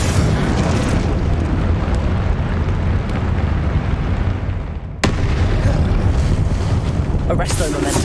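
A Confringo spell explosion in the Hogwarts Legacy video game is a dense, roaring blast of rumbling noise that fills the scene, with a sharp burst midway renewing the loud, sustained roar.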